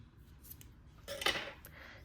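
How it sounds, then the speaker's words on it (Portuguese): Scissors cut crochet yarn for a Christmas tree with a quiet, close snip. A short crisp metallic burst stands out after a few faint clicks of handling. "Então, eu vou cortar esse fio."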